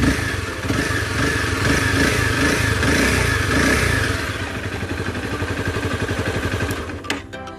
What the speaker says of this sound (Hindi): ये है इसका एग्जॉस्ट नोट, थोड़ी तेज करके दिखाता हूँ।